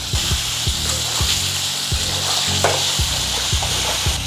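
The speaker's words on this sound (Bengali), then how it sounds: "পনিরগুলো এইভাবে হালকা ভাজা নেবেন" Paneer pieces frying lightly in a pan with salt and turmeric: a constant bright sizzle with a regular series of low scraping stirs, close and loud, with no voices.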